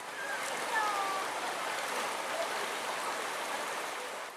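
River water flows steadily at the Air Biru tourist site beside the Gunung Leuser National Park forest, giving a continuous broadband rush that stays even and fairly loud throughout, with a few faint high tones above it.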